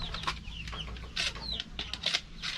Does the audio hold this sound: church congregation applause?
no